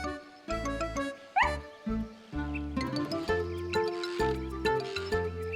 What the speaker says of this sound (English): She was wagging her tail and barking happily.